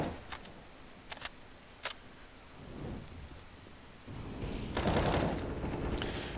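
Gunfire sprays through smoke and walls in the CS:GO video game, with a few sharp, separated shots early on and then a denser, louder rush of rapid fire toward the end.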